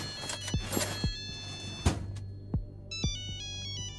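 A landline telephone rings in the video game Thief Simulator 2, a digital trilling ring repeating in bursts near the end, with several soft thuds earlier over a low steady hum.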